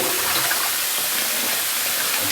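Tap water runs into a bathtub with a loud, unbroken rush and gush that stays steady and close the whole time.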